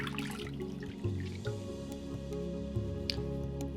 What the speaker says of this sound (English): We're going to take 1 washcloth and wring it out over the basin.